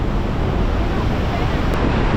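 Iguazu Falls seen from the Brazilian side, its water rushing as a loud, steady broadband roar with no break, like heavy surf or strong wind, close and continuous throughout.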